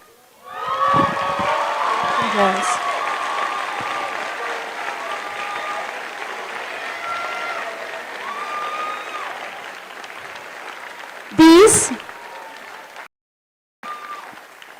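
Applause and cheering for high school graduates at a graduation ceremony, a broad sustained wash of clapping with whoops and shouts from the crowd, a loud close burst near the end before it cuts out.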